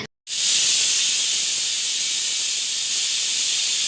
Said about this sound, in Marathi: सहा ते सात शिट्ट्या झाल्यानंतर कुकर पूर्णपणे तयार होणार आहे